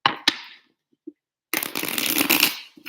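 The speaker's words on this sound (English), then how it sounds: "Shuffling." Tarot cards shuffled by hand: a couple of quick riffling snaps, a short pause, then a longer dense burst of rapid papery flutter, close and clear with no talk.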